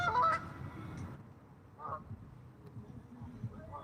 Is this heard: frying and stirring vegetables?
no